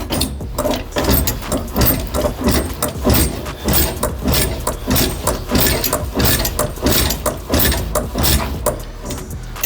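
A fender roller works along the steel lip of a Toyota Conquest fender, giving a steady run of close mechanical clicks, ratcheting and grinding creaks in a continuous loud rhythm without speech.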